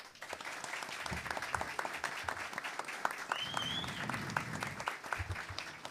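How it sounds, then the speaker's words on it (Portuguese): Audience applause fills a solemn session of a state legislative assembly, a steady dense patter of clapping hands from a large room, moderately loud and continuous, with faint murmuring and no clear speech over it. "graças também a ajuda da família Bolsonaro, a qual eu peço a vocês uma salva de palmas"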